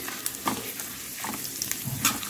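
Byadgi chillies fry in a pan on low heat as a morning breakfast dish is cooked, producing continuous crackling sizzle with several sharp pops and stirring clatters, close and alone.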